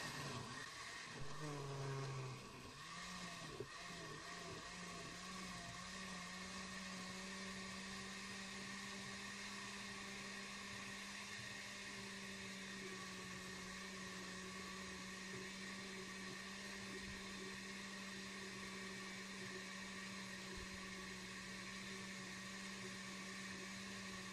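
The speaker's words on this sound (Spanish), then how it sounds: "vamos a taparla y vamos a licuarla un poco" A covered blender purées sauce for pechuga poblana, its motor spinning up with a rising whine and then holding a loud, steady hum for over twenty seconds with no talking.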